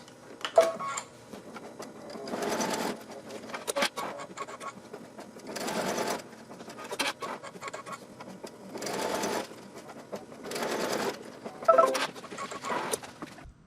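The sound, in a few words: embroidery machine stitching stars in gold metallic thread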